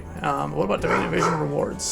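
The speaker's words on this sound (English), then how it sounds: "Sorry about the barking." A dog barks and growls in short yips close by, partly under a person's speech.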